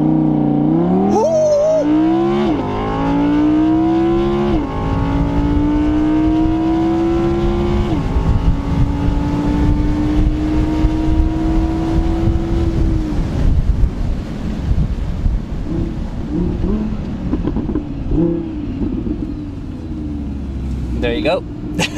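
An Audi R8 with a 5.2 litre engine accelerates hard down an airport runway, its engine note climbing through rising gear sweeps for about thirteen seconds, then easing off into loud wind rush and road roar, all heard from inside the car.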